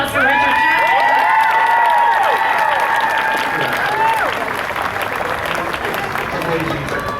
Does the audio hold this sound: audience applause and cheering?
yes